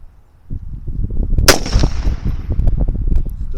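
A single sharp rifle shot cracks out at a shooting range on a windy day, loud and close, over a steady rumble of wind buffeting the microphone.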